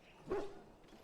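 A single short dog bark in Dragon Age: Origins, one faint yelp near the start over quiet background.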